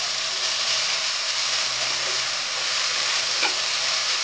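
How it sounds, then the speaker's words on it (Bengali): Potatoes and vegetables sautéing in a pan with turmeric, chili powder, ground cumin-garlic paste and salt, a continuous soft sizzle with light stirring scrapes, close and without talk. "এখন আমি সুন্দর করে সবজিটাকে কিন্তু কষাতে হবে ভালো করে।"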